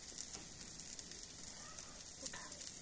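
Egg frying crisply in hot oil for an omelette, a steady close hiss and sizzle with scattered faint pops, running continuously without talk.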